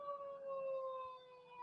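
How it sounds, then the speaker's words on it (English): Emergency vehicle sirens wail at a distance near a city fire, a steady rising and falling tone that stays faint and continuous with no voices. "There's lots of sirens."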